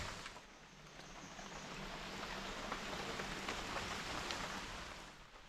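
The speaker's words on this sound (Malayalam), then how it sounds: "ഇന്നും രാവിലെ നോക്കുമ്പോഴും നല്ല മഴ." Heavy monsoon rain falls steadily at Willow Resort in Wayanad, a soft, even wash of drops heard from a distance with no voices.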